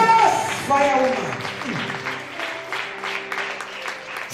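Church congregation applauding and cheering, a dense continuous wash of clapping and voices running throughout, loud and close, with music tones underneath.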